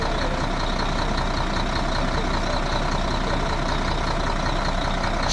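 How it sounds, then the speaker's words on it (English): Sinotruk tractor truck with an NX cab and a 430 hp Weichai engine runs steadily, a loud, constant low rumble with no change in pitch throughout, close by and with no speech. "Customer is checking this unit, tractor head, NX cabin, 430 horsepower Weichai engine."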